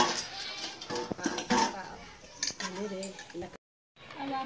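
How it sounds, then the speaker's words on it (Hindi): A girl washes dishes outdoors in a village, with pots and utensils clinking and clattering in irregular bursts at moderate distance, some voices faintly mixed in, then a brief dropout. "बर्तन धो रही है ये लड़की,"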